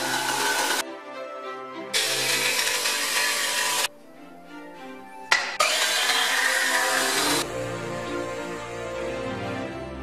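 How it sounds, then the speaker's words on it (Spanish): A power saw whines loudly in several bursts with short quiet gaps, cutting wooden pieces up close. "Cortamos las piezas intentando realizar cortes rectos y limpios."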